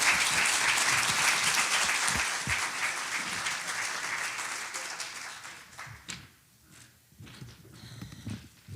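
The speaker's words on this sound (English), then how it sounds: "Giving them a round of applause." A room of attendees at a chamber of commerce luncheon gives a round of applause, full and even at first, then thinning and fading into a few scattered claps and knocks.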